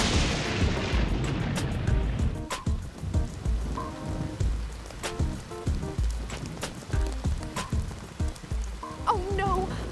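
Steady rain pours down on a surface, a loud continuous hiss dotted with sharp drop impacts and thuds throughout, with no voices.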